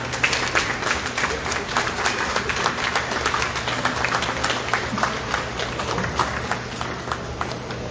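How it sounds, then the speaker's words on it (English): Sustained applause from a club audience at a Pan African Festival in San Fernando, dense steady clapping for a speaker lasting throughout, loud and close with little talk. "So we give a round of applause again to Mr. Keon Francis, first speaker."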